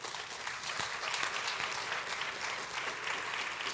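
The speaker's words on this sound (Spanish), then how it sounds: "Dar un aplauso al Señor." A church congregation applauds together, a steady dense wash of many hands clapping at moderate level throughout, with no voices over it.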